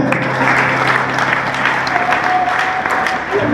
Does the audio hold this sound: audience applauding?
yes